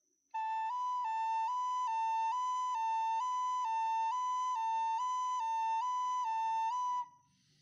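A flute plays a clear high two-note alternation over and over in a steady rhythm, mimicking a wailing ambulance siren, then stops.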